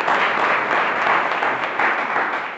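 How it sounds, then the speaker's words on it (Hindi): An audience at an AWPL business plan seminar breaks into loud, sustained applause, with dense clapping holding steady throughout and no talking over it. "मैं चाहूंगा ब्रॉन्ज लेवल के लिए एक बार जोरदार ताली।"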